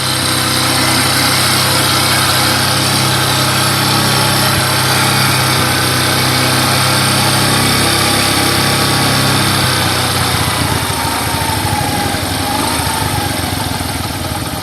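Pletina 100ES motorcycle engine held at about 3800 rpm during air-screw adjustment, a steady buzzing drone running close and loud throughout without pause, with a slight shift in tone past the midpoint.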